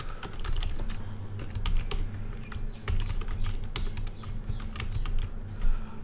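Rapid, irregular key clicks from typing on a computer keyboard rattle on nonstop for several seconds, close and crisp with quiet gaps between bursts and no talking.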